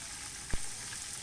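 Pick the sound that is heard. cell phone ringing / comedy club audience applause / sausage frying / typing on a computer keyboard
sausage frying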